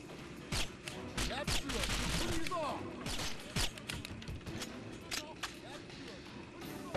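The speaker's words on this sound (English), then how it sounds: "Somebody is trying to shoot me." Enemy gunfire in the video game 007 Nightfire, a series of sharp shots at irregular intervals mixed with game sounds and talk.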